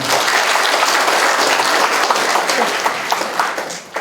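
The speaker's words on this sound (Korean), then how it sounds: "큰 박수 부탁드립니다." Audience applause at a municipal award ceremony in a hall, a dense, loud burst of clapping from a crowd that stays steady, then tapers slightly toward the end.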